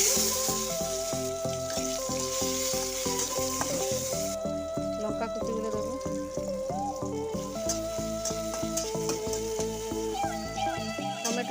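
Chopped tomatoes frying in hot mustard oil already seasoned with bay leaf and cumin, a steady loud sizzle with spoon scrapes and stirring clatter throughout, while tonal background music plays over it.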